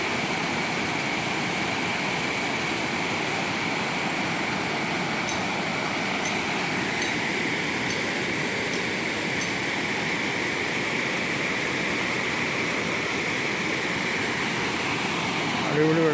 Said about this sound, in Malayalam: അടിപൊളി വെള്ളച്ചാട്ടമാണ് കാണുന്നത്.